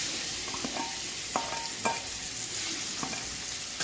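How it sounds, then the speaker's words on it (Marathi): Papaya pieces are stirred into turmeric and coriander powder frying in a pan, a constant bright sizzle with a few soft scrapes and knocks from the spoon spread through it; no voices. "आता आपण त्याच्यामध्ये पपई टाकणार आहोत."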